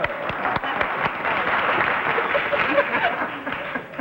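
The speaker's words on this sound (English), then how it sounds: "After all that applause, I hate to bring it up, but that doesn't rhyme" A TV studio audience on a 1963 panel game show breaks into loud, sustained applause, a thick continuous roar of many hands with a few sharp individual claps and some laughter mixed in.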